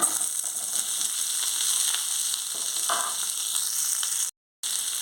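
Onions sizzle in hot oil in a pan for onion chutney, a loud continuous hiss with faint stirring scrapes, broken by one brief silent gap near the end.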